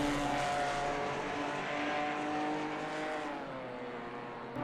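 A Ginetta GT4 race car at Watkins Glen gives a sustained, droning engine note that holds steady and then slowly fades as it moves away, heard alone without commentary.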